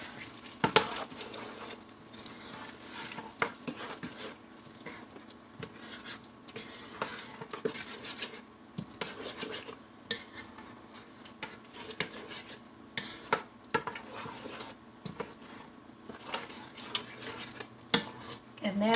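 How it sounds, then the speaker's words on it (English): A whole can of an ingredient stirred into a pot during Thanksgiving meal prep, with a spoon scraping and clinking against the pot in irregular bursts, close and moderately loud. "So just add the whole can in there. Give that a mix."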